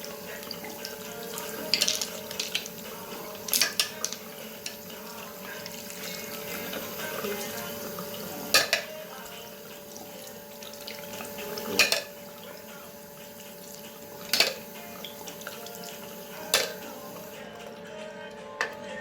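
Hot tap water runs steadily into a sink with occasional splashes and clatters as a makeup brush is rinsed under the stream, a voice talking faintly throughout.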